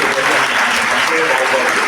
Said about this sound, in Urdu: زوردار تالیاں ہو جائیں گے